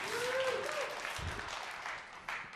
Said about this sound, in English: as we get some claps finally